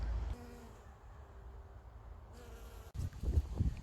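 Bees and other insects buzzing around a flowering plant in a spring cottage garden in New South Wales, Australia, a close, wavering hum that fades and returns, with a brief louder pass near the end.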